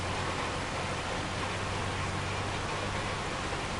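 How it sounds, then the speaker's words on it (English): Rain falls steadily in Farming Simulator 25, a soft, even hiss of drops on surfaces that continues unbroken, with a low hum underneath. "I do like the rain effects. It's just a nice sound."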